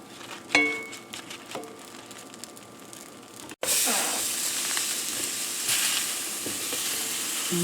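Portabella mushrooms sizzle in a cast iron skillet, a steady broadband hiss that bursts in loud after a brief quiet stretch with a few clinks, then holds close and continuous to the end.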